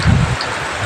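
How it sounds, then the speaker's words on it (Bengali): Heavy rain pours down during village flooding, a brief close steady wash of hiss, opening with a low rumbling thud. "জল আরো বাড়ছে বৃষ্টিটা"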